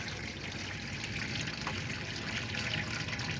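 Hot water runs steadily from a tap in a Swift Basecamp 2 caravan, a continuous close rushing flow with no pauses and no voices.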